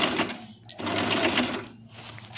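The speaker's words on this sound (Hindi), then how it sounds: "हम थोड़ा धीरे धीरे करते हुए इसको सिलाई करेंगे।" A sewing machine stitches a lehenga made from a chunri cloth at a slow, uneven pace, with close mechanical whirring and short pauses between runs.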